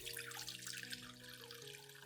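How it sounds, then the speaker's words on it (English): Potato peel water trickles and splashes steadily through a sieve, a soft continuous pour with a faint low hum underneath. "I will strain the potato peel water through a sieve."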